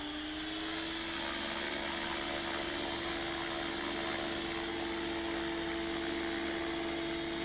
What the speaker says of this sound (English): You just tell this thing is a big, powerful helicopter